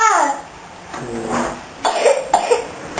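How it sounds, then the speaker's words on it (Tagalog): A sick child coughs several times in short, close bursts, with a little throat-clearing and a few faint vocal sounds between the coughs. "May ubo ako."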